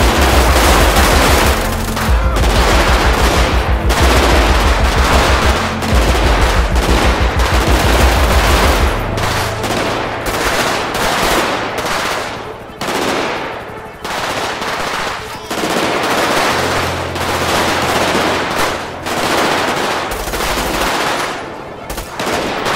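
Dense automatic gunfire from a GTA 5 zombie survival game rattles loudly in rapid bursts with short gaps, nearly continuous throughout, while a voice talks briefly now and then over the shooting.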